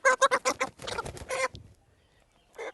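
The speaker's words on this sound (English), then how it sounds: "chicken" A chicken on a poultry farm clucks up close, with a rapid run of loud squawking clucks that trails off into quiet before one more short call at the end.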